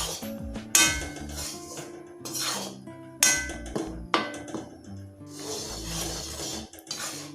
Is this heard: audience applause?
no